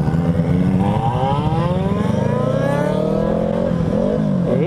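A Yamaha YZF R3 motorcycle accelerates hard on a Sunday ride near Cantagalo, its engine note climbing through several rising sweeps as it shifts up, loud and sustained, with no talk over it.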